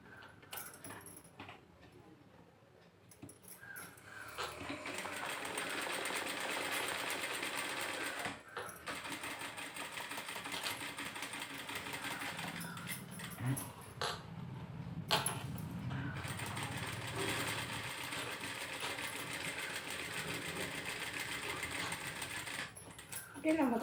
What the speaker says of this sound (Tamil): நம்ம வரைஞ்சோங்க அது மேலேயே தையல் போட்டுருவாங்க.